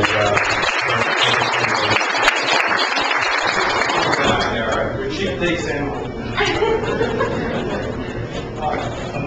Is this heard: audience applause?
yes